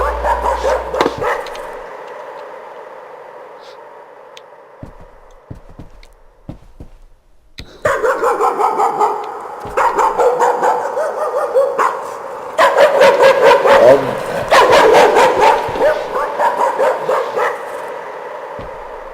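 Loud, close dog barking from the horror game Layers of Fear, opening with a few barks, pausing, then breaking into long stretches of rapid, continuous barking and yelping.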